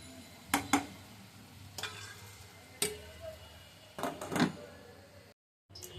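A spoon stirs potatoes in a cooking pot, giving a few sharp scrapes and clinks spaced irregularly against faint kitchen background, close and moderately quiet.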